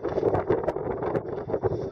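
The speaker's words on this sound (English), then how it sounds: "It's cold and windy today" Cold wind buffets the microphone at Rich Mountain Lookout Tower on the Appalachian Trail, a loud, gusty rumble rising and falling with no talk.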